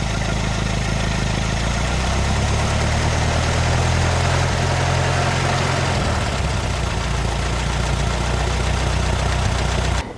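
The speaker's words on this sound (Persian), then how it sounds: "این مشکل که بعدها به ضربه زدن موتور یا تو انگلیسی بهش میگن انجین ناکینگ معروف شد" An engine suffering from knocking runs loud and close, a heavy, continuous rumble with a low throb that shifts slightly midway, heard on its own without speech.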